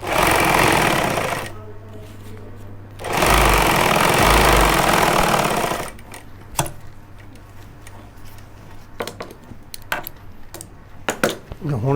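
A sewing machine stitches the inner side of a trouser front pocket, running in two loud, steady whirring bursts separated by a pause. Later come quiet clicks and fabric handling.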